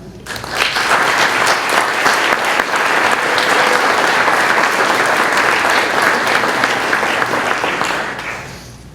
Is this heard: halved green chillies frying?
no